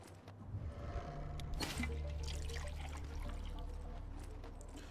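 Water pouring in the video game Wasteland 2: a steady, soft rush of liquid with a brief splashy burst early on, continuing evenly at low volume with no talk.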